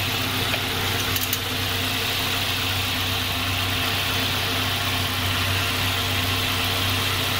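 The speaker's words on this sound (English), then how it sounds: "I've already started engine and the engine is warm now" A warm 2008 Ford Ranger engine idles steadily, a constant low rumble and hum with faint vibration and no change in pace, heard alone at moderate level.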